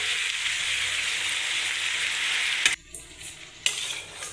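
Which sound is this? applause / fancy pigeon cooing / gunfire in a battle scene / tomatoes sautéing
tomatoes sautéing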